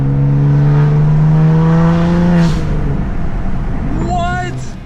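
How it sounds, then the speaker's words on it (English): A BMW M3 with a manual transmission revs loud and close, its engine note climbing and then dropping through downshifts, with a brief crackle after the throttle lifts and a fading tail. "The sound and the downshifts with this manual transmission is insane."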